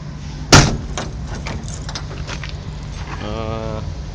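A door on a mint 1991 truck with a complete interior is shut once with a sharp thump near the start, followed by faint clunks and handling noises, then a brief hum near the end.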